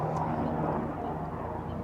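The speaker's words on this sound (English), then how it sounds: "Can't believe a helicopter's going over just as I'm talking." A helicopter passes overhead at a lakeside fishing spot, a steady broad droning roar that fills the whole stretch without letting up.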